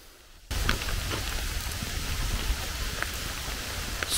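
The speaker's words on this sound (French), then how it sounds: "il y a une pluie tropicale, waouh! Un bel orage." Heavy tropical rain in a thunderstorm on the Yucatán, Mexico, starting abruptly as a steady, dense hiss of downpour that holds fairly even throughout, with no voices.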